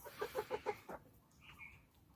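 Tiger chickens, about four and a half months old and kept as breeding stock at a market stall, give four or five quick, rhythmic clucks close by, followed by a softer, fainter call.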